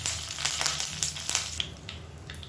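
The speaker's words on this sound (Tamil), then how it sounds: "கருவேப்பிலை சேர்த்துக்கலாம்." Curry leaves sizzle and crackle in hot oil in a pan while spicy kara kulambu is being prepared, giving a close, steady frying hiss with scattered sharp pops.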